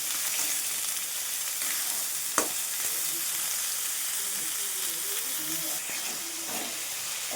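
A large batch of onions sizzles and hisses steadily in a pan for paneer bhurji, with a few clinks of a spoon against the metal, close by and without speech.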